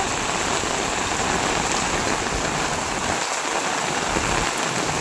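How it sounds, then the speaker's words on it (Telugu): Heavy rain pours down in a dense, continuous hiss, loud and close, with no voices. "వర్షం మాత్రం చాలా గట్టిగా అయితే వస్తుందండి."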